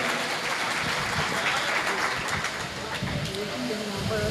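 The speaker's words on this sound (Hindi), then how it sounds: "एक बार जोरदार तालियां" Dense, steady applause from a poetry-recital audience, loud and continuous throughout without pause, with a few brief vocal sounds mixed in.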